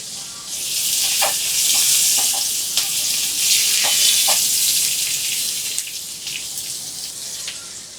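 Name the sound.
onion and sliced green chili frying for bitter gourd bhaji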